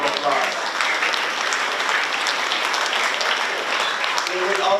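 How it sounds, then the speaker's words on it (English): Sustained applause from the audience at a 12th grade high school commencement ceremony, steady and fairly loud throughout, with some voices mixed in. "Let's give them a big round of applause"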